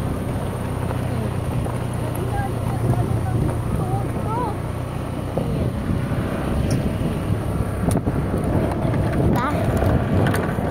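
A faulty boat motor drones steadily and continuously on a heavily loaded boat, with wind buffeting the microphone and occasional faint voices.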